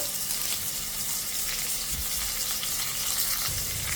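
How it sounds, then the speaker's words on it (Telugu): Curry leaves hit hot oil for a tempering of fried spices, giving a dense, continuous sizzle and crackle that stays loud and even throughout, with no one speaking. "ఇప్పుడు కొద్దిగా కరివేపాకు వేసుకుందాము"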